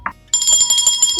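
A ringing bell or alarm-type chime, loud and continuous with a bright, sustained tone, comes in after a brief opening sound and runs to the end at a party-game show.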